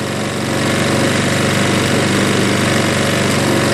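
Craftsman self-propelled lawn mower with a bagger, its engine running steadily at high idle, a loud, close, continuous buzzing drone that holds even throughout with no talk.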